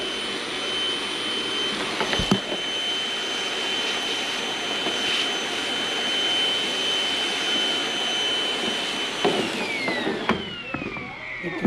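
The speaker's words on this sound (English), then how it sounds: "We'll get this shavings cleaned up." A vacuum whines steadily while cleaning up metal shavings in a water truck bed, with a few sharp clanks and knocks before the motor winds down near the end.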